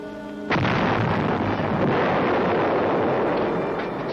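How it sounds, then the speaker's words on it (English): Explosions of 105 mm artillery shells in a wartime radio drama: a sudden loud blast bursts in after a brief quiet moment, then becomes a dense, sustained rumbling roar that barely fades for several seconds. "The sound of those explosions, I said they're about 105s"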